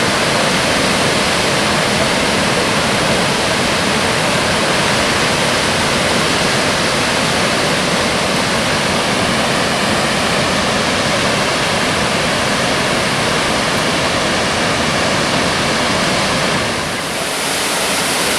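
Bond Falls, a waterfall in the Porcupine Mountains of Michigan's Upper Peninsula, roars as a continuous, dense rush of falling water, loud and close, steady for the whole stretch with no voices.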